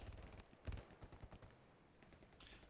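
Gunfire in the World War II shooter game Hell Let Loose, a burst of sharp shots and rapid cracks heard faintly over a background of game ambience.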